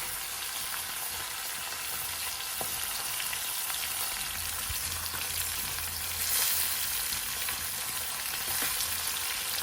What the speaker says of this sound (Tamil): மசாலா தூள் மிளகாய் தூள் மஞ்சள் தூள் போட்டு பொரிச்சிங்கன்னா சூப்பராக இருக்கும்